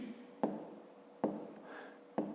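Someone writes by hand in a math exercise book, three short pen strokes close by on paper, each opening with a soft tap and a brief scratch, quiet and unaccompanied.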